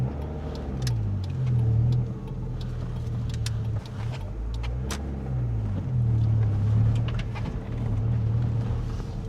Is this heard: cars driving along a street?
yes